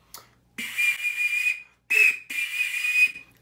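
Breathy, airy whistling tones from a three-fold panpipe being blown, two sustained notes with a short gap between them, close and clear with no talk.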